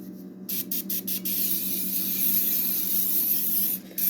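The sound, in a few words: spraying cooking oil from a spray bottle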